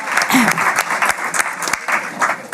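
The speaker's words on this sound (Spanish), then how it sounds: "Todos y todas un aplauso." An audience at a course on gender violence applauds, a short burst of lively clapping from a modest crowd with some voices mixed in, loud and close.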